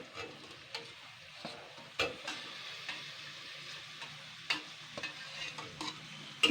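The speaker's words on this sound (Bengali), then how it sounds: "জাস্ট এটাকে আমি 2 মিনিট মতন নাড়াচাড়া করে নেব।" A spoon stirring boiled, peeled potatoes in a pan for a fish egg recipe, producing irregular scraping clicks and knocks against the metal over a soft sizzle. The sound is close and fairly quiet, with no talking.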